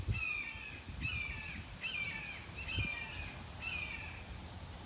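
A hawk repeatedly squawks in a suburban neighborhood, harsh calls recurring about once per second at moderate distance over a steady outdoor hum of insects.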